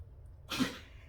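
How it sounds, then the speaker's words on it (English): A single short, breathy cough burst from a dog still coughing after surgery intubation, fairly close, rising out of a quiet room with low background hum. "Oh, excuse my dog. She just had surgery, and she's still coughing from being intubated"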